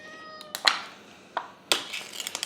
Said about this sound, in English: So you'll hear, they'll keep meowing, they'll get louder